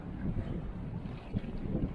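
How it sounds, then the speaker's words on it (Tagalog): Steady wind roars and buffets close to the microphone on a windy coast with strong waves, a rough continuous rush with no talking. "Oh, kaya mahangin."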